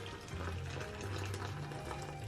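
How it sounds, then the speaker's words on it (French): Very hot water pours steadily into a basin with laundry detergent, a continuous close rushing gush with a low hollow rumble underneath. "je vais verser l'eau très chaude"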